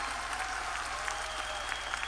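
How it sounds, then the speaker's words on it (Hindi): Loud, steady applause from an indoor audience at a Vestige business meeting, dense clapping sustained throughout with a faint tonal hum underneath. "जोरदार तालियां।"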